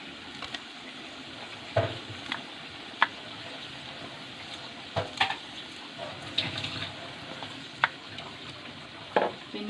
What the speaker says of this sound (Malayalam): ഇനി ആ ഇഞ്ചിൻ്റെ വെളുത്തുള്ളിൻ്റെ ആ പച്ചമണം മാറുന്നവരെ ഇളക്കി കൊടുക്കാം.